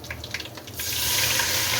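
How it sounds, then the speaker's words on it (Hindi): Water pours into a hot pan of frying garlic, ginger and spice masala for aloo kofta, starting with a few light sizzling spatters and then turning into a steady, loud rushing sizzle, close and without talk. "तो इसमें थोड़ा सा पानी डाल दें,"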